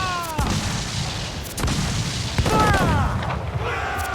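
Ship cannons and mortars fire during a naval battle in Assassin's Creed IV Black Flag, heavy booms landing at intervals over a constant roar of sea and battle noise, with shouted crew voices and whistling streaks overhead.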